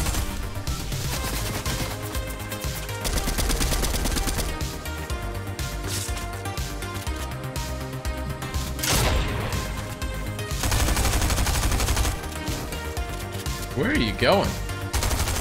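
Loud, sustained SMG gunfire in the video game Fortnite, rapid automatic bursts layered over game music and effects, with a voice talking briefly over the action.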